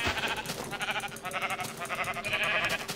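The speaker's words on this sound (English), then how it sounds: "I see 3 sheep." Several sheep bleat in Minecraft with overlapping, wavering calls that repeat throughout, fairly loud and close over a busy game background.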